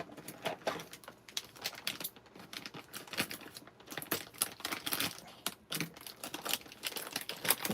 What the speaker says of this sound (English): Let me open this up.